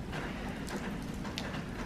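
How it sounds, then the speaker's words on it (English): Rain falling in the desert during a flood, a steady close hiss of drops on surfaces with scattered brighter spatters, continuous and moderately loud with no talk. "Raining. It's raining."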